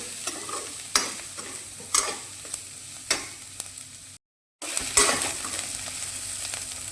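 Fennel seeds frying with onions and a little asafoetida in a pan while cooking bitter gourd curry, a steady close sizzle with repeated sharp scraping stir strokes and a brief dropout midway.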